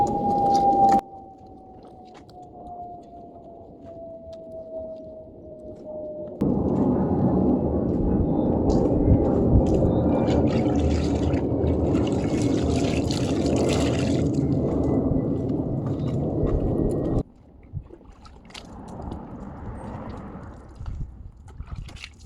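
Soapy water from a bucket poured and splashing over a car during a wash, a loud continuous gush and splatter after a quieter trickling stretch, then fading to softer dribbles near the end, with no talking.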